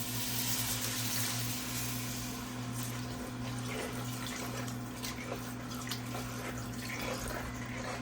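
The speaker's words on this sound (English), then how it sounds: "now we're going to go ahead and start to add in our water." Water pours steadily into a pan for beef pot pie, a continuous rushing splash over a low humming background.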